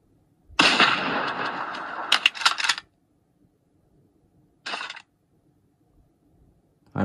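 Sniper rifle gunshots in a mobile sniper shooting game: a sharp, ringing shot with a long tail, two quicker cracks right after, then one more short shot after a silent pause.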